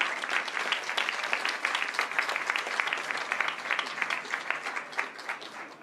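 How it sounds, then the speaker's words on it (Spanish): A crowd at a government cultural event gives Elvira Concheiro a warm round of applause, steady dense clapping from many hands that carries on for several seconds with no voices over it. "Elvira Concheiro, a la que le pido un reconocimiento y un aplauso."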